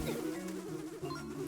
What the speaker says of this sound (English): Everyone knows that getting stung by bees hurts. When you see them buzzing, start running or throw yourself in the water.